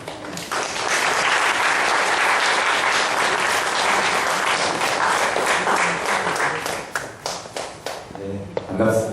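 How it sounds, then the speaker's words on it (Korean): Warm, full applause from a church congregation welcoming a pastor to the front for a Friday lecture, continuous and close, tapering into scattered claps as the speaker begins to talk. "뜨거운 박수로 환영하겠습니다"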